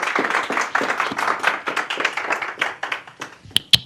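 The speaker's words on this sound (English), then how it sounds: "One more round of applause for Chad" Closing applause from a workshop audience on buildings and climate change: a steady patter of many hands clapping for several seconds, moderately near, ending with a couple of sharp louder claps.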